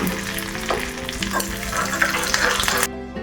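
Mustard seeds and cumin sizzle in hot oil for tempering a wedding-style thin rasam, a steady dense crackle with a few sharper pops, close and fairly loud, stopping abruptly near the end.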